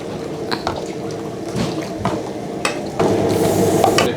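Thai yellow curry (gaeng leung) heating in a pot, with soft bubbling, liquid sloshing and stirring clinks, close and fairly quiet, growing a little busier toward the end; no talking.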